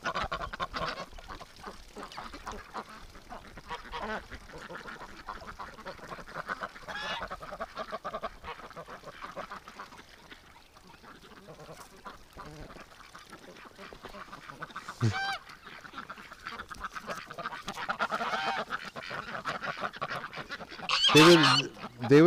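Wintering ducks and geese by a swamp and creek, a busy flock quacking and honking continuously at close range, with a louder burst of honks near the end.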